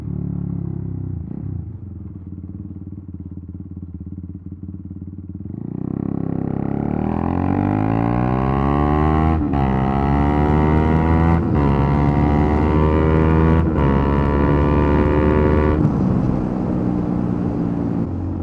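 A motorcycle engine idles low, then after a few seconds the horn sounds alongside a rising engine rev, sustained and loud, with a few sharp breaks in the tone before it settles back.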